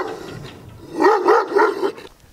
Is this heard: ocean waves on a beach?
no